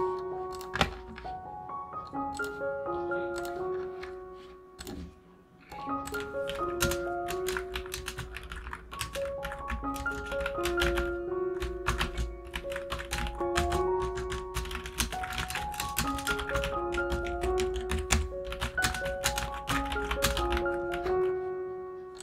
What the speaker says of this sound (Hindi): Keyboard seems to be pretty good, काफी सॉफ्ट है।